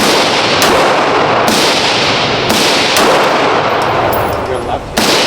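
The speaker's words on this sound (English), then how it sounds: "show y'all folks how to shoot a Glock" Several loud, sharp pistol shots from a Glock crack at an indoor or outdoor gun range, spaced about a second apart, each followed by a short burst of reverberation.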